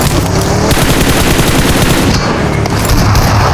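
Rapid automatic gunfire from the battle-royale video game PUBG, loud and continuous with dense overlapping bursts of shots throughout and no clear pauses.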